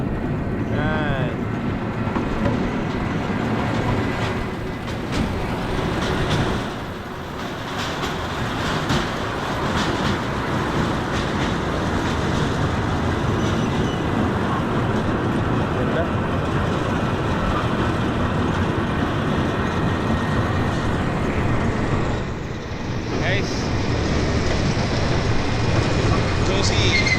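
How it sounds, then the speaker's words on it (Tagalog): A train in Chiang Mai rumbles past steadily and fairly close for the whole stretch, with wind buffeting the microphone and voices talking over it. "There's a train."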